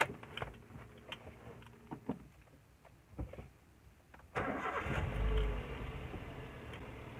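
A Toyota Rush 1.5 S with manual transmission is started: quiet clicks and light interior sounds, then at about four seconds the engine fires and settles into a steady, fairly loud idle that lasts to the end.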